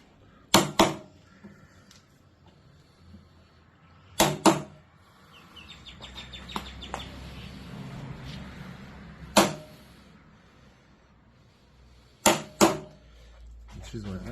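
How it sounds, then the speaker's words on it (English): Chisel chipping out wood during a carpentry marking-out and cutting exercise, sharp percussive knocks in irregular pairs spaced seconds apart, close and loud, with quiet scraping and faint talk between strikes. "So I'll just chisel a little bit out on this one."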